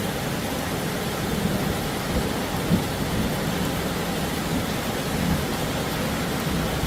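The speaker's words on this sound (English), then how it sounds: "There's 4 or 5 storms, lightning all around." Steady heavy rain pours throughout during a thunderstorm, with a dense broadband hiss and faint low rumbles of distant thunder beneath it, loud and continuous with no voices.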